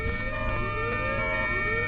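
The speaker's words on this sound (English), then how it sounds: "Sirens blaring, lights flashing, people are getting the hell out of the way." Ambulance siren wailing in heavy traffic on a narrow road, a steady loud rising-and-falling tone over a low hum of vehicles, heard alone.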